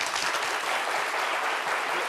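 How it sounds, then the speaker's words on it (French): An audience on a French midday television show applauds loudly, a dense, continuous wash of many hands clapping that holds steady at moderate level for the whole stretch with no voices over it. "Merci de vous applaudir très fort."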